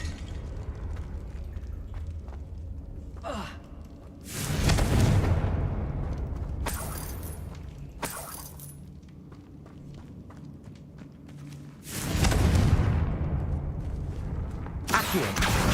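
A Confringo blasting spell from Hogwarts Legacy, cast in a crypt near a sarcophagus, goes off as two loud booming explosions several seconds apart, with footsteps and softer game ambience between them.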